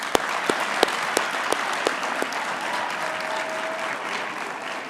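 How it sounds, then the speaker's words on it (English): A graduation audience at a university faculty ceremony claps steadily in a big hall, a dense wash of applause punctuated by a few louder close hand claps. "ask our graduates to applaud their families, partners, friends for their support over the years"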